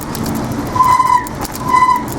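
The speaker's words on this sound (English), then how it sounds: "excuse the sound of the brakes, but she's quite steep." Bicycle brakes squeal on a steep, icy descent in two sustained high-pitched bursts over wind and rolling tyre noise.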